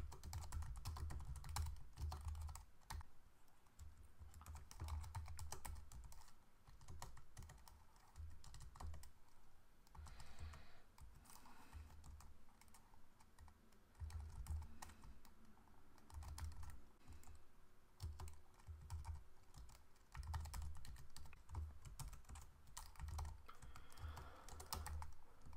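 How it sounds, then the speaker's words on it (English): Someone types code on a computer keyboard, a long, steady run of quick key clicks with short pauses, close up and no speech. "Let me type it out"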